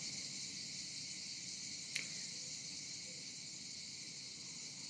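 Cicadas in Provence outdoors, a continuous high buzzing drone held steady throughout at moderate distance, with one brief sharp click partway through and no talking.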